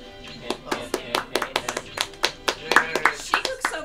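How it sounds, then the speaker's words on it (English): Rhythmic hand claps from Donkey Kong's clapping taunt in Super Smash Bros, a steady run of sharp, close claps repeating about twice a second, with game sounds and faint chatter underneath. "That Donkey Kong clap."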